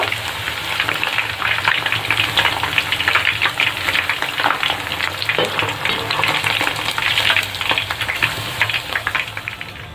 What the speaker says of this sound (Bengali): এই পকোড়াগুলো খুব সুন্দরভাবে ভেজে নিয়েছি।